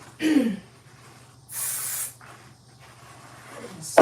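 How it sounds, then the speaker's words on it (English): Two short bursts of basting spray hiss from an aerosol can onto fabric for an in-the-hoop clutch, each lasting about half a second, close and clear, with faint handling noise and another quick spray at the end. "basting spray there, and that'll keep it in place"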